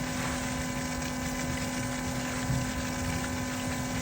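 A pool sand filter pump hums steadily while rinsing, with water rushing out and dumping to waste in a constant, loud, unbroken wash of sound.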